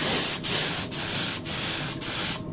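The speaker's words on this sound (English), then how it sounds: "the spray pattern on this gun isn't very wide because it's only a spot repair gun" A spot repair spray gun sprays paint onto a Peugeot 107 car bumper in a home garage. The spray comes in four steady broadband hissing passes, each lasting about half a second, split by brief gaps as the trigger releases.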